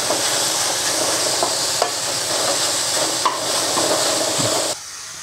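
Beetroot stir-fry with a cup of grated coconut being stirred in a pan, a steady loud sizzle with a few spatula knocks, stopping abruptly near the end.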